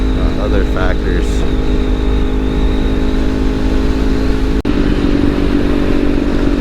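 A motorcycle cruising on US 28 in North Carolina gives a loud, steady engine drone with wind rush, heard close up from the rider's position, with a brief dip near the end.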